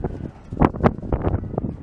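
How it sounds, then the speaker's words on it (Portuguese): Strong wind gusts buffet the microphone outdoors on a stormy Christmas day after heavy overnight rain, producing rumbling bursts of low roaring noise close to the mic. "Está bastante vento"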